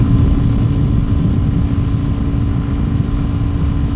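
A Keeway 125cc motorcycle engine held at full throttle gives a steady, loud, droning hum with an even pitch and no breaks, and no talking over it.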